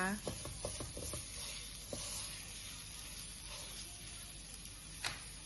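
Pork being stir-fried with chili paste, a soft continuous sizzle with a quick run of spatula scrapes and taps early on and a lone clank near the end, fairly faint and close.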